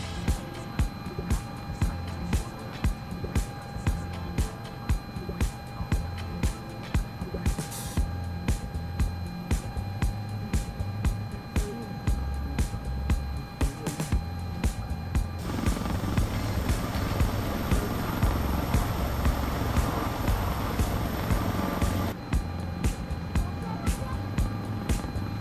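A Sikorsky S-76C helicopter in Microsoft Flight Simulator 2024 drones steadily with a constant turbine whine and rotor thrum, swelling louder partway through as it comes in to land, while someone talks over it.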